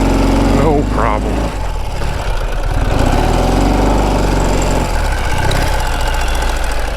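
Engine of a Ural Gear Up two-wheel-drive adventure sidecar motorcycle idling steadily and close by, a low continuous rumble that runs the whole time, with a brief voice near the start.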